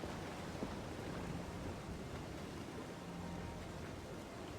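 Thunderstorm at sea in Assassin's Creed Freedom Cry, with a steady wash of heavy rain and wind over waves and faint rumbling, constant and loud throughout with no talk.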